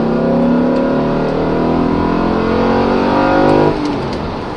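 A 2007 Audi RS4 B7 engine holds a high, strained rev in a steady loud drone, then drops sharply as the throttle closes near the end, heard up close from inside the car.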